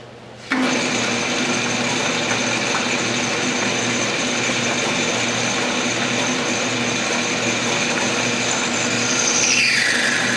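A metal lathe cutting off a small part for a steam engine, with the carriage locked down: a steady, loud mechanical whir with a constant tone that starts abruptly and runs on evenly to the end, no voices.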